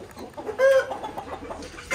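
Parrot Beak Aseel chicken clucking close by at a breeding center, with short throaty calls and one brief louder cluck near the middle.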